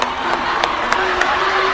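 A crowd claps and cheers, with a few sharp louder claps standing out over a continuous murmur of applause and voices.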